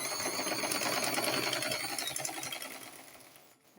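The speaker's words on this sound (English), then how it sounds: "So I stitch now." A sewing machine stitches a fully lined long skirt with a front slit, its fast, steady whirring rattle close and alone, slowing and fading toward the end.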